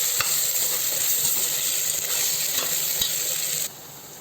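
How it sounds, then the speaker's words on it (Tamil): Masala paste for a brinjal gravy fries in oil while a spoon stirs it, giving a steady loud sizzle with occasional scraping clicks, then dropping abruptly quieter near the end. "ஒரு 5 நிமிஷம் இந்த எண்ணெயில் நம்ம கொஞ்ச நேரம் இந்த பச்சை வாசனை போகிற வரைக்கும் நம்ம கலந்து விடணும்"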